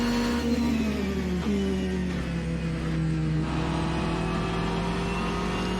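An LM Hypercar A480 in the Assetto Corsa racing game accelerates with a loud, steady engine drone, its pitch climbing through gear changes, heard close and alone without talk.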